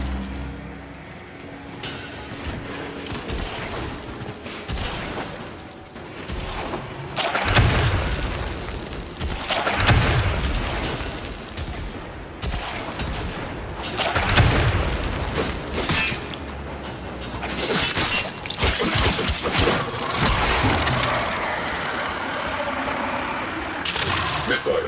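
Missile explosions during a Warframe Railjack space mission: several heavy booms and cracking blasts strike amid continuous dense combat rumble and clatter, loud throughout.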